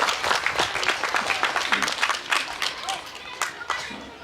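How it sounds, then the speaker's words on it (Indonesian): Applause and clapping from an audience at a Pancasila Day and grade six farewell ceremony at SD Inpres Kalukum elementary school, a dense steady patter of many hands with some children's voices and chatter mixed in. "Tepuk tangan dulu bagi kita semua."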